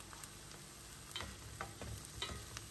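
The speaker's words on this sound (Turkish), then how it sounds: "Soğanı içerisine ilave ettim ve soğanı iyice kavuruyoruz." Onions frying in a pan give off a soft, steady sizzle, with light clicks and scrapes from stirring, quiet and close, with no voices.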